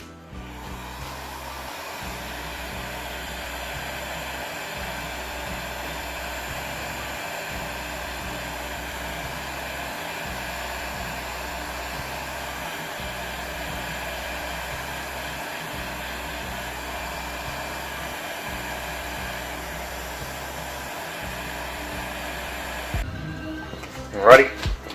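Continuous airy whoosh of a heat gun shrinking heat shrink tubing over a soldered cable, steady and close, with a low regular pulsing beneath and a short clatter at the very end.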